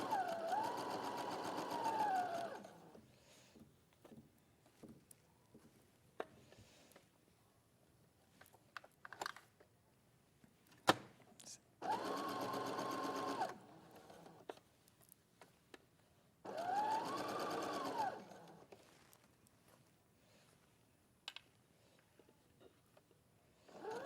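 An overlocker sewing machine stitching fabric, heard in three separate bursts of steady, whirring running of a few seconds each, with quiet handling sounds and some talk in the pauses between them.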